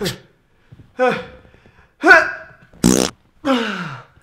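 A series of five sputtering, breathy farts, each short and loud, separated by brief silences.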